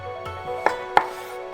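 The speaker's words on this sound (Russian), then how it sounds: "Нарезаем их на полоски." A knife cuts oyster mushrooms into strips on a board, with a few light taps followed by two sharp, distinct chops, close and clear.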